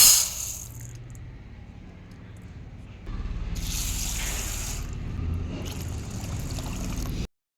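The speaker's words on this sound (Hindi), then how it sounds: "साबूदाने को कम से कम 2 से 3 बार साफ़ पानी के साथ और हल्के हाथ से वॉश करना" Running water splashes and rushes steadily while sabudana tapioca pearls are washed in a kitchen, a continuous gurgling spray that grows louder partway through, with no voices.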